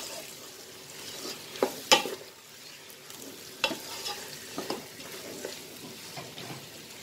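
Chicken leg and other pieces are stirred in a pan for Hyderabadi dum biryani, with a soft, steady sizzle and a few sharp clinks and scrapes of the spoon against the pan.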